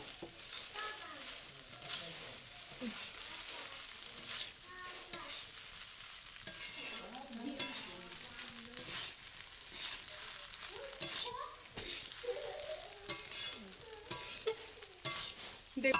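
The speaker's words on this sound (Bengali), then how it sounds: "এটা হালকা আঁচে একটু নাড়তে হবে" Mixed rice and chicken stirred in a pan over low heat on a traditional clay stove: a steady soft sizzle with repeated scraping spatula strokes throughout, close and moderately loud.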